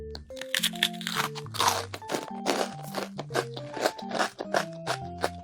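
Crisp, loud crunching bites into a chocolate financier with a crunchy outer shell, a rapid run of close crackles and snaps over steady chewing, with no talk.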